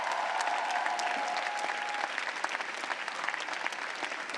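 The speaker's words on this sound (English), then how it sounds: "Give them a round of applause." Steady applause from a large audience at a graduate school commencement ceremony, dense clapping holding at an even level from start to finish.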